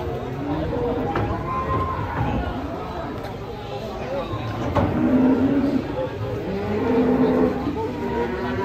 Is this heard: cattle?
yes